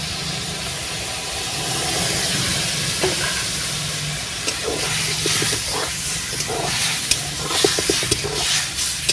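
Spiced kebab masala being sautéed in a pan over a wood fire, a steady close sizzle and hiss with scattered scraping stirs and light clinks that grow busier toward the end.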